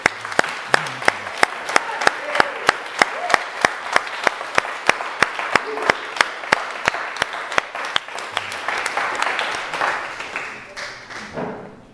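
A church congregation claps together in steady, rhythmic applause, crisp and close, continuing for several seconds before thinning out and fading at the end.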